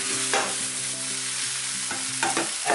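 Goan sausage chilli fry being stirred with spices in a pan: a loud, steady sizzle runs throughout, broken by several scraping stirs of a utensil.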